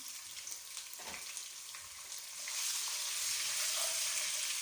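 Garlic ginger paste and green chillies frying in a pan with salt, a continuous hiss that swells louder halfway through as the mixture is stirred, with no voices.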